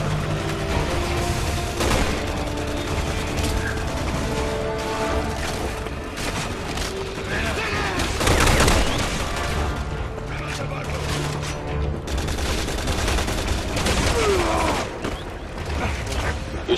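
Gunfire in Resident Evil 6 keeps up throughout, with scattered shots and bursts amid booms, clanks and other combat noise, and a voice speaks over it.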